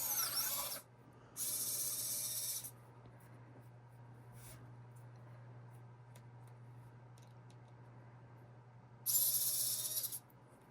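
Three bursts of a small high-pitched power drill whir briefly as it drills through polymer clay pieces, separated by quiet stretches over a constant low electrical hum.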